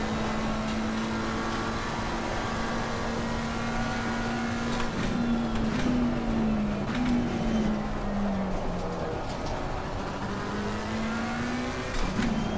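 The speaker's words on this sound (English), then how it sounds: "Just hear the engine fluttering here." A race car engine in the sim game Assetto Corsa Competizione hums continuously, its pitch wavering and fluttering as revs rise and dip with traction control cutting in, with a faint electronic, game-like quality.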